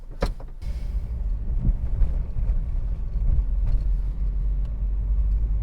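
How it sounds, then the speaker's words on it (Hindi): A car engine idles with a steady low rumble and faint wind noise, after a brief sharp sound at the start, heard from inside the vehicle. "अब ऑफिशियली मैं गाड़ी स्टार्ट कर रहा हूँ"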